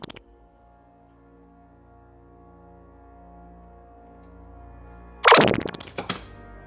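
A Spider-Man Homecoming Vulture toy figure fires its new weapon: after a long stretch of faint electronic hum, a loud, rapid machine-gun-like burst of sound effects erupts near the end, followed by a couple of shorter bursts.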